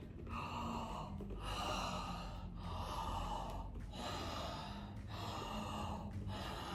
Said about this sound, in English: You can tell that I'm breathing through my mouth